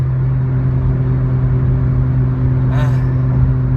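A 317-horsepower car engine running, a close, steady droning hum with strong low tones that stays even, with a brief higher swell near the end.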